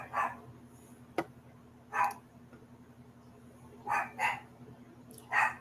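A dog barks several times from another room, short sharp yaps in small clusters spread across a few seconds, heard at moderate distance over a low steady hum.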